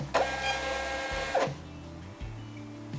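A small sticker printer in a home craft studio runs with a steady mechanical whir and buzz, bracketed by clicks, then feeds in short repeated motor pulses, close and clear with no talking.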